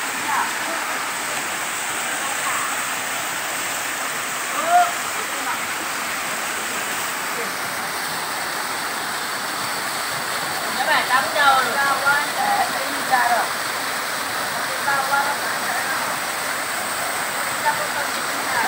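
A waterfall near the village of Munggai in Pariaman, West Sumatra, roars as a steady, loud wash of rushing water, with faint voices and small clicks heard briefly beneath it.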